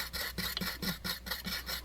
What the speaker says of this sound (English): there's a little bit of rust here, so I'm just going to hit this with a brush a little bit.